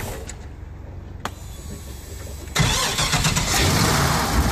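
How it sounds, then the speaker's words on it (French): A 2010 Excalibur V8 engine is switched off and started again: a quieter idle with a brief click, then a sudden broadband surge as the engine catches and settles into a loud, steady running rumble with no talk. "On va l'éteindre et le redémarrer."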